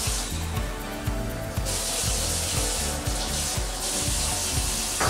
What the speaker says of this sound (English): So I'll add 200 milliliters of regular tap water.